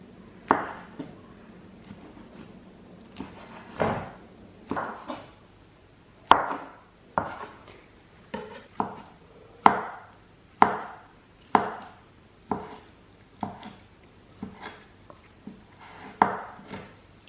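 Salad ingredients for a Chinese egg salad being thinly sliced with a knife on a board: a run of sharp, evenly spaced close chops with brief pauses between groups, clear and alone.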